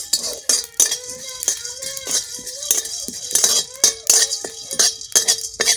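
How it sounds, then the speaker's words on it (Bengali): Whole cinnamon, green cardamom, shahi jeera, cloves, black peppercorns and shahi chilli dry-roasting in a dry kadai, with repeated metallic clinks and scrapes of a spatula against the pan, close and fairly loud in an irregular rhythm. "চলুন এগুলো একটু শুকনো কড়াইতে গরম করে নিই।"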